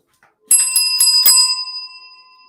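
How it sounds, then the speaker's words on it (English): A bright bell rings in several quick strikes, then its metallic tone lingers and slowly fades away, close and clear. "Let's ring that bell for Kara Joe."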